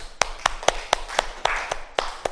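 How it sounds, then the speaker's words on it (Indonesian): Clapping in a classroom for a student group, a short run of about nine separate, evenly spaced claps that sound close and sharp over light room noise. "terima kasih untuk kelompok 1, tepuk tangan"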